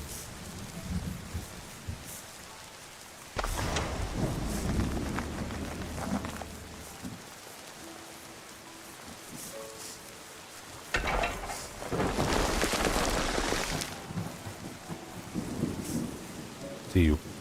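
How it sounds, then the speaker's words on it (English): Pouring rain and rumbling thunder from the video game Terra Nil, a steady hiss of rain broken by two strong swells of thunderous roar, with faint talk in the background. "Even though it's pouring down rain."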